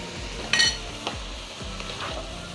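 Chopped vegetables sizzle steadily in a hot pan as they are sautéed, with a few spoon or spatula scrapes and light clinks of stirring breaking through the continuous frying hiss.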